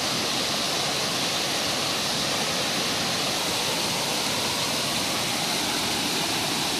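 Dense, constant roar of water tumbling over rocks in a mountain stream at Suoi Da on Nui Dinh, close and unbroken with no talk.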